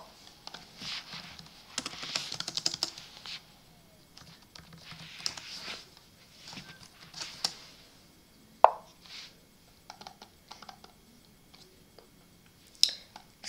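Quick bursts of computer keyboard typing and scattered mouse clicks during an online chess game, sounding faint and close, with short pauses between clusters of keystrokes.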